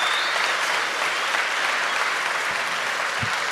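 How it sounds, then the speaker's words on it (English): Audience applause at a university podcast event for a professor, a dense, steady wash of clapping from a full room that holds at an even level, with a couple of faint low thumps near the end. "Would you all give Dr. Bulanon a huge round of applause?"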